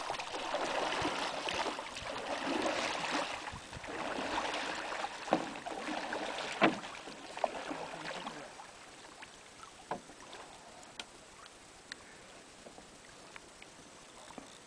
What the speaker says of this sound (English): Do you like doing the canoe, Louisa?